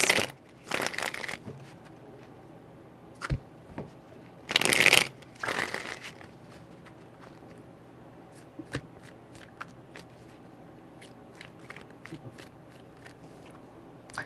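Tarot cards shuffled in a few quick, soft riffling bursts, close and quiet, separated by scattered faint clicks and handling noises with no talk.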